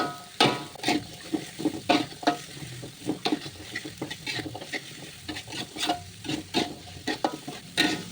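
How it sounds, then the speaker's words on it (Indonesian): Carrots are stir-fried in a pan for a simple home breakfast, a continuous close sizzle broken by frequent scraping and stirring clatter, with no talk. "Jadi itu saya mau oseng-oseng dulu wortelnya sampai layu."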